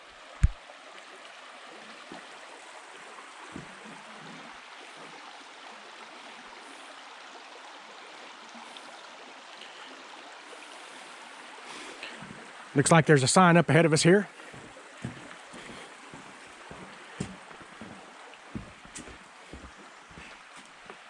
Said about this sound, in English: And this is Dog Slaughter Creek.